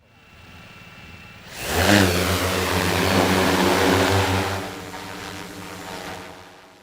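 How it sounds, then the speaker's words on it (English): A bomber drone used by resistance fighters in Myanmar powers up, its propellers rising into a loud, steady buzzing whine that holds for several seconds before easing off slightly outdoors. "What kind of drone is this?"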